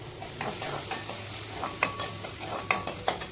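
Cinnamon bark dropped into a hot oiled pan while cooking biryani, a steady close sizzle with several sharp stirring scrapes and clinks spread through the few seconds.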